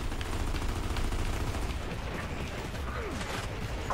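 Dense, steady gunfire from the Xbox 360 co-op shooter Gears of War 2, a loud continuous barrage of battle noise with no clear pauses across the whole stretch.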